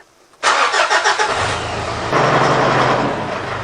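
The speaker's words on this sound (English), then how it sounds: "the normal startup of a diesel" A Mitsubishi Triton 4D56 diesel engine with an overheating fault cranks with rapid pulsing after glow plug warm-up, then catches and settles into a loud, steady idle rumble close by.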